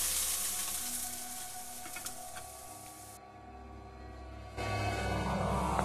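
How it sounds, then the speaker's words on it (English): Food frying in a pan in the horror video game Mad Father, a steady loud sizzle that runs throughout and briefly thins before surging back, with no speech over it. "What's a little girl even doing frying something?"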